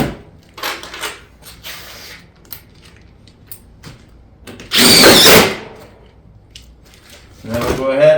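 Fasteners driven into a Pine Crest shake siding panel, with a few short tool bursts and one loud, longer burst near the end between quieter handling knocks, while a person talks.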